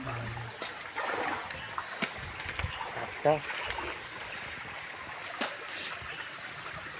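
A river in the Konkan countryside, where people are fishing, flows with a steady trickling and rushing of water under continuous close conversation, with a few brief splashes and knocks.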